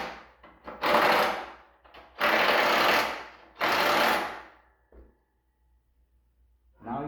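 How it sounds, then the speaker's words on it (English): A power tool driving the bolts on a Ferris 52-inch ICD+ mower chute blocker, three loud buzzing bursts about a second long each, close up, with short pauses between and a brief clack. "Got your 4 bolts in,"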